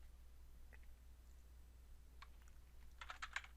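Quiet keystrokes on a computer keyboard: a few isolated taps, then a quick burst of typing near the end over a low steady hum.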